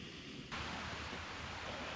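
Steady broadband rush of a small creek running beside a mountain trail on Mount Benson in early spring, filling the clip with no talk, the rush swelling after a moment.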